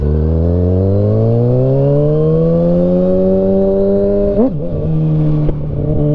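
A Kawasaki ZX6R motorcycle engine drones loud and close while riding, its pitch climbing steadily before a gear shift brings a sharp dip and a brief stutter, then the engine pulls again.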